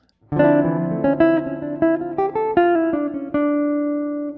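A clean electric jazz guitar plays a short single-note line with a minor, melancholy color, notes plucked clearly and the last one left ringing out alone.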